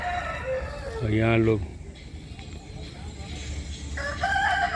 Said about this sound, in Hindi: मुर्गा लगातार बोल रहा है।